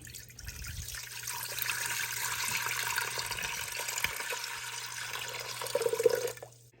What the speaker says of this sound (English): We'll start with about 4 cups of water and we're going to add it into our pot.